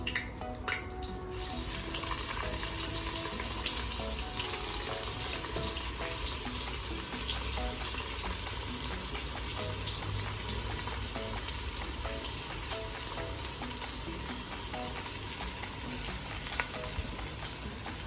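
Sliced onions fry in hot oil with bay leaf for egg biryani, a dense, loud, unbroken sizzle that holds steady and close for the whole stretch, with no voices over it.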